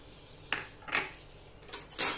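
Chopped green chilli and coriander are mixed into olive oil in a bowl, producing three or four soft, separate clinks of a spoon against the dish in a quiet room.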